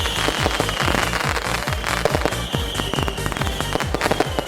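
Dense barrage of fireworks and firecrackers bursting at midnight on New Year's Eve in a Polish village, rapid overlapping cracks and bangs filling the air continuously at close range, loud and relentless with no pauses.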